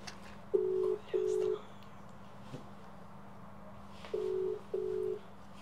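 Telephone keypad dialing tones while a call is placed: two steady beeps, a pause, then two more, each clear and about half a second long over a low constant hum, with faint sounds in between.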